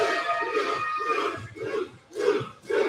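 Fans roar and cheer at a UFC fight night, a sustained crowd din swelling in loud waves with brief dips, heard from a distance through a broadcast.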